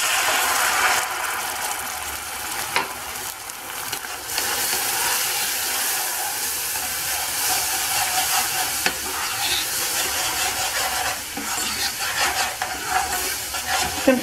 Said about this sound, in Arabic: كنزيد نص كاس ديال عصير الليمون، خاص نبعد وجهنا حيت كيطير بزاف